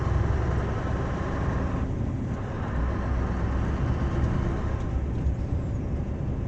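A Scania R620 V8 truck engine drones steadily while crawling in traffic, a loud, constant low rumble with turbo hiss filling the cab and no speech over it.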